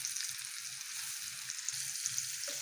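Mushrooms sizzling in a frying pan with butter and garlic for buttered shrimp, a continuous close crackling fry with faint low stirring bumps underneath and no talking.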